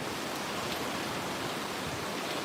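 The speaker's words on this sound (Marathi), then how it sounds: "अचानक पाऊस सुरू झालेला आहे तुम्ही बघू शकता आज लक्ष्मीपूजन आहे आणि पावसानं सुरुवात केलेली आहे" Heavy rain that has suddenly started in Talegaon Dabhade fills the air with a dense, unbroken wash of hiss, fairly faint and steady, with no voices.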